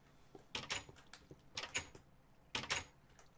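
A Minecraft villager opening and closing wooden doors in the game, three clusters of quick knocking clicks spaced about a second apart, fairly quiet.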